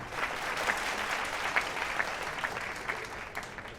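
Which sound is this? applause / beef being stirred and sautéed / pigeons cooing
applause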